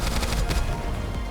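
Rapid automatic gunfire in the video game Goddess of Victory: Nikke, a dense, loud burst of shots running continuously for just over a second.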